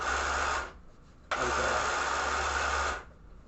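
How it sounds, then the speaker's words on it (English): An HO scale model funicular's motor runs, its pulley spinning while the cable slips. The steady whirring hiss runs, drops away briefly, then resumes for a longer stretch before stopping. "the pulley keeps spinning and the cable just kind of slips"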